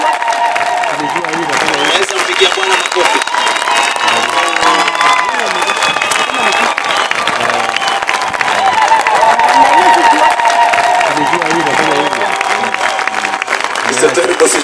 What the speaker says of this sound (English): Can we clap for the Lord?